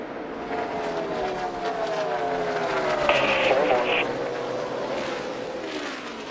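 NASCAR stock cars racing at Texas roar past with loud engine whines that sweep downward, a pack of cars streaming by over a steady din of the track.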